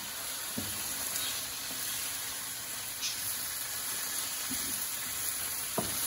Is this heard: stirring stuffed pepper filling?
yes